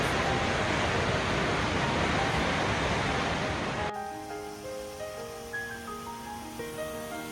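Kegon Falls roars as a steady, loud wash of falling water seen from high above at the Akechidaira observation deck, cutting off abruptly partway through to quiet tonal music.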